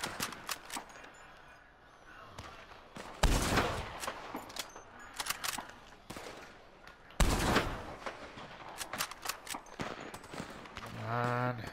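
Bursts of gunfire from the video game Red Dead Redemption 2, scattered sharp shots with two heavier volleys standing out, mixed with other game sounds and no talk.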